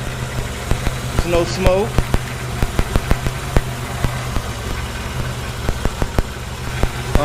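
Restored Z car engine idling steadily nearby with a low rumbling drone and irregular ticks, while someone talks over it.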